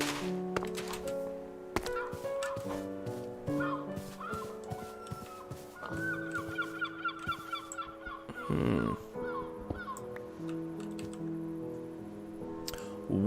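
Geese honk in a jungle-themed video game, a few nasal calls scattered over steady layered game music with light clicking sounds, with no voices.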